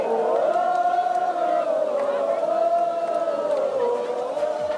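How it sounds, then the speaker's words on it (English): A crowd at the Guča Trumpet Festival sings the last chorus of a Balkan song together, many voices blending into a sustained, wavering melody that stays loud and steady after the performers have left the stage. "The very last chorus, which you can hear everybody singing along, they just continued singing it."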